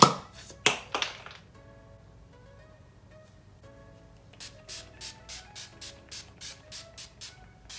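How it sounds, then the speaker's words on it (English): Urban Decay All Nighter setting spray hisses in three quick bursts, then after a pause comes a rapid series of about ten short, even pumps, close and fairly quiet. "For setting spray, I'm going to be using the Urban Decay All Nighter"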